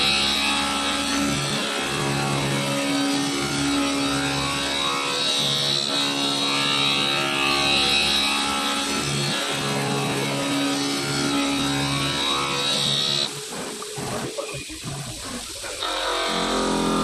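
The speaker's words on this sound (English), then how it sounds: "Shape edging and polishing." A horizontal glass CNC machining centre edges and polishes a shaped glass piece, giving a continuous grinding, humming whine with shifting tones that dips and changes near the end, no voices.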